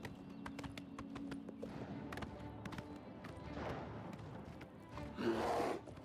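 Horse hooves clip-clop at a steady walking pace in Oblivion Remastered, fairly faint and mixed with game ambience, followed by a louder rustling burst near the end.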